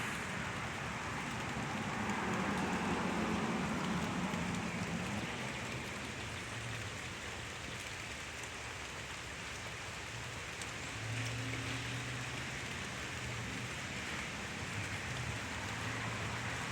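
Steady rain from an afternoon thunderstorm in Pittsburg, Kansas falls continuously, a broad even hiss with a faint low rumble underneath and no voices.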